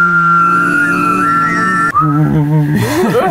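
Loud, close, piercing whistling, the kind said to bother dogs and cats, holds a steady high tone and then breaks into quick warbling trills that rise and fall.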